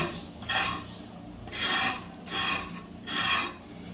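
A knife scrapes and slices through snake gourd (chichinge) in a home kitchen in four or five rasping strokes, each swelling then fading, close and alone.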